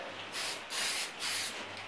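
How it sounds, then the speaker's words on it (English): A spray can of paint hisses over a carved sign in two long, steady bursts separated by a short pause, loud and close with no voices. "So I'm going to spray this just a little bit heavier, a little bit more."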